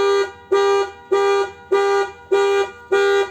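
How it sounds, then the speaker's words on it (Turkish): A 2015 Ford Mondeo EcoBoost car alarm blares in six evenly spaced, loud tonal bursts, each about half a second long, with no talking. "gördüğünüz gibi alarmımız çalışıyor"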